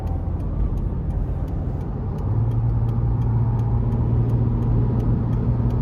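A 2004 Toyota 4Runner SR5 with 250,000 miles and a 4-speed automatic accelerates on the road, its engine a loud steady drone from inside the cabin that firms into a stronger hum, with a regular faint ticking throughout.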